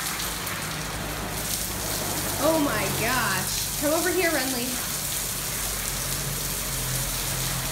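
Heavy rain pours down with a steady, dense hiss that fills the whole scene, while someone nearby speaks briefly over the downpour.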